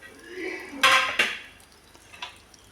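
A metal lid comes off a pot of sambar with two sharp clanks close by, followed by a faint clink and low kitchen background.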